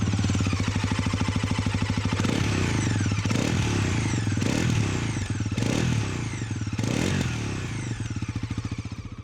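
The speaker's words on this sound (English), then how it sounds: "You know one thing you should listen to, that is its exhaust note." A Bajaj Pulsar NS400Z motorcycle's exhaust note, loud and close, idles with a steady low pulse and then revs sharply several times in quick succession before settling back to idle.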